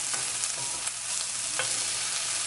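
Vegetables fry steadily in a pan over a medium flame while cooking enchiladas, giving a continuous close sizzle with faint stirring scrapes and no voices.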